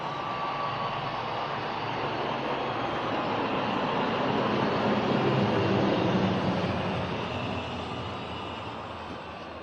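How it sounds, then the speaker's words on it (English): A formation of Lockheed C-130 Hercules military transport aircraft of the South African Air Force flies past at an air display, a broad steady engine roar that swells toward the middle and eases slightly as it passes. "The Lockheed C-130 Hercules aircraft is operated by 28 Squadron from Air Force Base Waterkloof."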